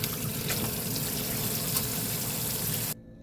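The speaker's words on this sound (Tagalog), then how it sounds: "Ayan po, banlawan natin ng maayos ito." Ingredients for Korean kimbap are rinsed in water, producing a steady close splashing and trickling wash for about three seconds before it stops abruptly.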